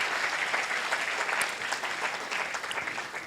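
A crowd at the TCS InQuizitive 2024 Nagpur regional quiz finals applauds steadily throughout, a dense, even wash of many hands clapping at moderate distance.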